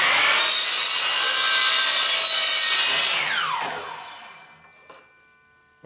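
A miter saw cuts through an 8-inch wooden board with a loud, continuous whining rasp that holds for about three seconds, then the motor winds down and fades, followed by a couple of small knocks.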